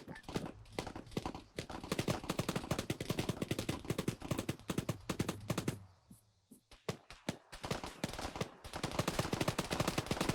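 Dense gunfire from an ambush in the military game Arma 3: rapid, loud bursts of shots and fusillades, a brief lull in the middle, then renewed firing.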